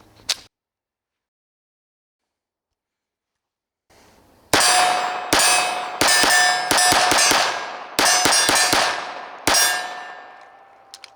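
A Tisas Fatih 13 pistol, a Beretta 83/84 Cheetah clone, fires a rapid string of about a dozen shots, each ringing loudly off steel targets, after one early clank and a pause.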